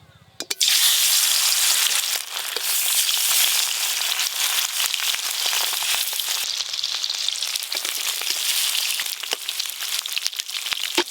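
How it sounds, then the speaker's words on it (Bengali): River fish hit hot mustard oil with a sudden loud sizzle that settles into a steady, close crackling fry with scattered pops, continuing without pause. "মাছগুলোও খুব ভালো করে ভেজে নেব।"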